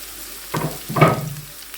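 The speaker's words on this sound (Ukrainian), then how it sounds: "цибулю. Підсмажуємо її до карамельного кольору." Onion frying in a pan until caramelised: a short, close burst of sizzling with a stirring scrape, about a second long, with no voices.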